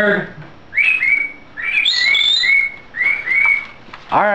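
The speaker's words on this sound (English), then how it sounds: "Alright, the bird's being loud again" A loud bird calls in repeated bright whistled chirps close by, several phrases with short pauses between them, in a quiet indoor workshop setting.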